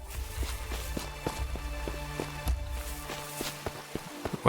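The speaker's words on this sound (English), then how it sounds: "those footsteps are way over the top" Exaggerated game footsteps from a crafting video game, a steady run of thudding steps with low rumble underneath, fairly loud and close, no talk over them.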